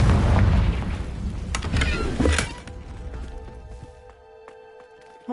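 A Confringo blasting spell in Hogwarts Legacy bursts with a loud booming explosion, crackling debris trailing off into a quieter room tone before a final thump.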